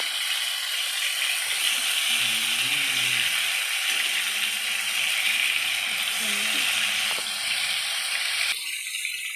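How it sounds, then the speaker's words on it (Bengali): Bombay duck (lote fish) fritters frying in oil, a steady bright sizzle and crackle filling the clip, with a faint voice murmuring underneath and a brief clatter near the end. "বড়া ভাজা ভাজা হয়ে গেছে লোটে মাছের বড়া।"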